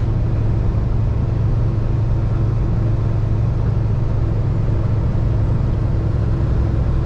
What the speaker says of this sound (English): And so now I'm driving west on Highway 17.